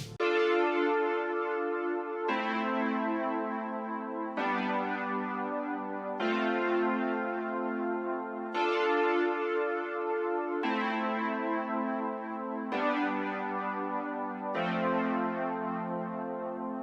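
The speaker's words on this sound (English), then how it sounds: "the first thing I started with was the Synth Pad from my all-time favorite VST" A sustained, warm synth pad from the Analog Lab plugin plays a slow sequence of held chords, each changing every two seconds or so, smooth and steady with no voices.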